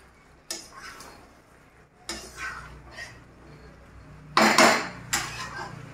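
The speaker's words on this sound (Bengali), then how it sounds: "এখানে আমি মশলার সাথে চিকেনটাকে ভালো করে মিশিয়ে নিয়েছি" Chicken, about a kilogram, being stirred with spices in a metal pot for a yogurt chicken dish, giving several separate clanks and scrapes of utensil on pot, the loudest burst near the end, with no talking.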